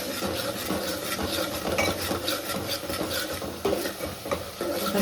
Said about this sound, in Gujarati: થોડીક વાર વઘારને પાકા દઈએ.